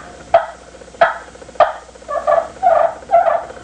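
Box-style turkey call worked with a striker held against the board, giving three sharp yelps followed by a run of softer rasping purrs, close and alone.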